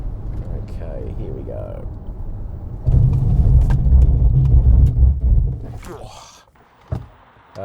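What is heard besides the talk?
Ford Mustang Mach-E braking hard from 100 km/h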